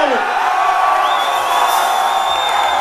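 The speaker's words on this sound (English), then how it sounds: "Now can you give a big Texas scream" A loud Texas concert crowd at a metal show in Dallas screams, whoops and cheers continuously, a dense roar of voices filling the hall with no break.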